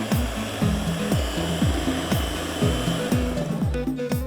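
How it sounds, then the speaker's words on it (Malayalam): An electric hand mixer whirs as it beats eggs and sugar for caramel pudding, its motor surging and dipping in a regular rhythm about twice a second, loud and close, with no talking. "നമ്മൾ നേരത്തെ ബീറ്റ് ചെയ്ത് വെച്ചേക്കുന്നില്ലേ നമ്മുടെ ആ മുട്ടയും പഞ്ചസാരയും"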